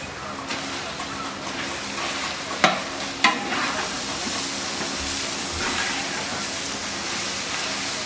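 Potato stirred into a pan of frying chicken bonda filling, giving a steady broadband sizzle with scraping stir strokes and two sharp clanks near the middle.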